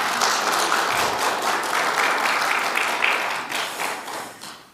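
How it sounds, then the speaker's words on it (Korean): A church congregation applauds to welcome singers in Christmas outfits at a Sunday Advent service, a dense round of clapping that holds steady, then fades toward the end. "우리 다시 한번 큰 박수로 환영하십시다"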